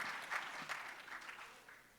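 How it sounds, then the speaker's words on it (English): An audience at a National Action Network convention gives a speaker a brief hand of applause, a soft, muffled wash of clapping that tapers off within a couple of seconds. "give him a good hand clap out there"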